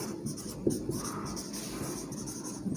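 A marker or chalk writes on a classroom board in close, light scratching and squeaking strokes, with a couple of brief taps between them.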